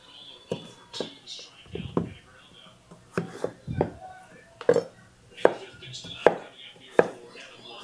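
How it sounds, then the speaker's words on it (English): A knife chops through a big strawberry onion on a board: a run of sharp, irregular thuds close up, with soft breathy sounds between the cuts. "And we're going to do an onion. And this is a big strawberry onion."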